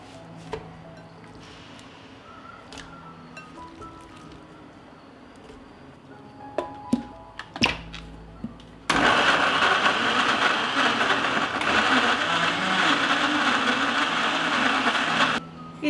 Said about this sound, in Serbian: Očišćene breskve samleću u blenderu.